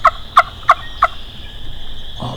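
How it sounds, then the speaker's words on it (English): Wild turkeys gobble in the distance during a public-land youth spring hunt, four sharp, evenly spaced bursts in quick succession, then quiet outdoor background with a faint low sound at the end. "All the birds started gobbling down behind us to our north."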